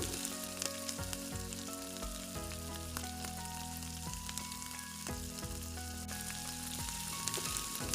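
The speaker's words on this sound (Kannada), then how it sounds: "ದ್ರಾಕ್ಷಿನ ಸೇರಿಸ್ಕೊತಾ ಇದ್ದೀನಿ ಎರಡನ್ನೂ ಸಹ ಫ್ರೈ ಮಾಡ್ಕೊತಾ ಇದ್ದೀನಿ" Cashews and raisins fry together in ghee for a semolina sajjige, giving a steady, soft sizzle with faint crackles under quiet background music, with no talking.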